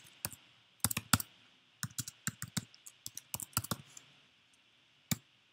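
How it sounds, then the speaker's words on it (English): Keys clacking on a computer keyboard while code is typed, a series of crisp close clicks in quick irregular bursts with short pauses, one final isolated keystroke, no talking. "I'll go ahead and finish typing everything"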